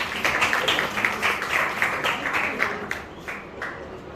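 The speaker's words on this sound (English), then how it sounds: "Round of applause, please" A round of applause at a school interns' farewell, moderate clapping from a gathered audience that rises and falls in bursts before thinning out near the end.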